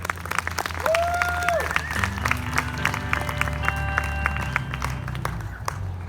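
An audience at an outdoor library concert on the steps breaks into sustained, dense applause that holds steady throughout, with a brief tonal whistle-like sound early on.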